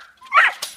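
A single dog gives a short, excited yelp up close, followed by quick rustling, in a household where dogs get worked up.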